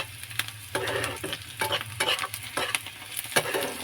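Onion frying in a pan sizzles in uneven bursts as it is stirred, with scraping strokes roughly every half second, close and moderately loud, no voices.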